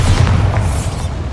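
A Bombarda explosion spell goes off in a video game as one loud, close booming blast that rumbles and fades out over about a second.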